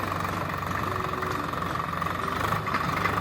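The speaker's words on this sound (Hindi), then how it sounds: "तो जाली क्षेत्र में ट्रैक्टर पहुंचा है" A tractor engine runs in a farm field during ploughing, a steady low rumbling drone with faint knocking throughout, moderately loud and uninterrupted, with no voices.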